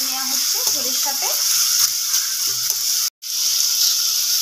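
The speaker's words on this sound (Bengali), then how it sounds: "থোরটা অনেকটাই ভাজা হয়ে এসছে।" Chopped banana stem (thor) with ginger and cumin powder sizzles steadily in a pan, a broad constant hiss with a brief dropout near the end, while a voice talks over it.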